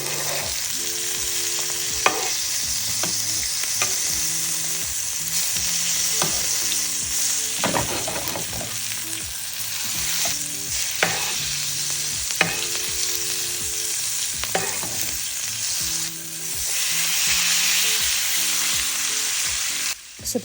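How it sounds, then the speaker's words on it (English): Wagyu striploin sears in a pan with butter and garlic, a loud continuous sizzle broken by regular clinks and scrapes as a spoon bastes the steak, all close and without speech. "I'm going to add some butter and some garlic and sear the other side for 3 minutes"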